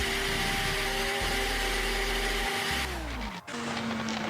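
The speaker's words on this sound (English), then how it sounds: "Let me rev it a little bit." Car engine revving in the game GTA San Andreas on Android, a steady droning engine tone that shifts pitch and drops near the end, loud and unbroken with no talk.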